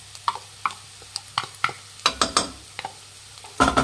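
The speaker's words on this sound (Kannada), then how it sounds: "ಕ್ಯಾರೆಟ್ ಹಸಿ ವಾಸನೆ ಹೋಗೋವರೆಗೂ ಫ್ರೈ ಮಾಡಬೇಕಾಗತ್ತೆ" Grated carrot fries in a pan with onions, and a spatula stirs and scrapes it in irregular bursts over a soft sizzle. The sound is close and clear, with no talking.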